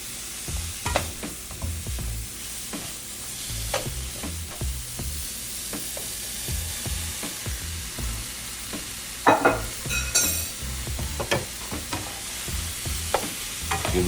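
Jerk chicken pasta being stirred and fried in a pan, with steady sizzling under repeated scraping and clattering of a utensil against the pan, close and continuous throughout.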